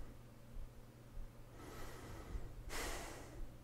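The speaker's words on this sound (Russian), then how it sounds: "Дышим." A person breathing in deeply on waking in the morning, two soft breaths, the second stronger and breathier, heard close and alone in a quiet room.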